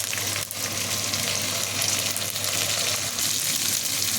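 Ginger paste sizzles in hot oil for a tempering, a steady close frying hiss that holds at an even level throughout, with no talk.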